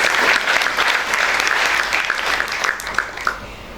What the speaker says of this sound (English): Can we have a huge round of applause once again for our notorious achievers?